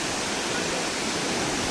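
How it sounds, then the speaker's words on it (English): White Beard Waterfall in Biei, Hokkaido, where water gushes from cracks in a cliff, gives a steady, even roar of falling water, heard alone. "waterfall, white beard waterfall."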